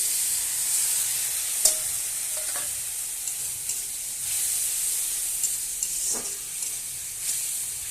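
Spices with ginger, garlic and a splash of water sauté in a pan for a palak paneer, giving a steady hiss and sizzle with a few sharp scrapes and clinks of a stirring spoon.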